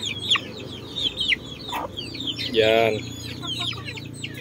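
A native chicken hen clucks over steady farmyard noise while birds chirp throughout, with a brief spoken word near the start.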